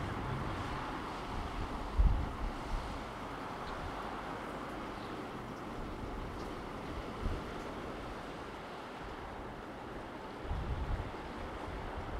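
Ocean surf and wind on a coastline, a steady wash of broadband noise with low rumbling wind gusts, soft and distant, no voices.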